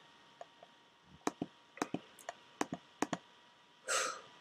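Sharp, isolated computer mouse clicks during a software tutorial, about a dozen quiet taps in uneven pairs and singles, close and faint, followed by a short breathy rustle at the end.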